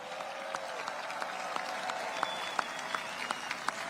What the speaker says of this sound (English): A round of applause for the King and Queen of Belgium.